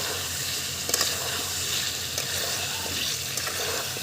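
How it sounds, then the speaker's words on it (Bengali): Steady sizzling and frying of pre-fried potatoes being sautéed in a pan for Kashmiri aloo dum, with occasional stirring clicks, a constant close hiss without speech. "1 মিনিট মতো আলুটা দিয়ে কষিয়ে নেব"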